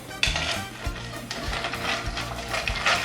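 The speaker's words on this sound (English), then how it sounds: "let's put some ice and let's stir this cocktail really good" Ice cubes clink and rattle against a glass while a cachaça cocktail is stirred with a bar spoon, a close, repeated rhythmic jangle of tinkling knocks with no talk.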